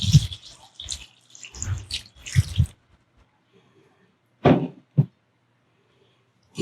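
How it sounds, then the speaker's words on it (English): Water dumped from a bag into a pot in a home kitchen while making pickled peppers: two short, close splashy pours, one longer and one brief, after some earlier rustling and handling sounds. "And I'm going to do the water. Dump the water."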